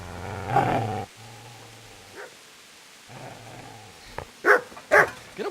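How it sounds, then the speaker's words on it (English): A dog in Kingdom Come Deliverance growls low and menacingly, then lets out a few loud, close barks toward the end. "Get away, you mutt!"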